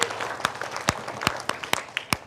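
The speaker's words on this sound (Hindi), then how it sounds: "एक शानदार ताली इन लोगों के नाम से।" Students at a school morning assembly clap in a brief burst of applause, sharp irregular claps close by over a busy crowd wash.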